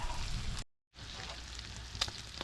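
Deer heart frying in a pan, a soft steady sizzle broken by a brief silent gap, then resuming with a few louder crackles and pops.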